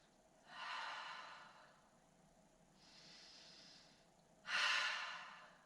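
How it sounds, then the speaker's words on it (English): Three slow, deep clearing breaths during a relaxation exercise, each a soft airy inhale or exhale lasting about a second, close and quiet, with the last one strongest, like a sigh. "take a few clearing breaths"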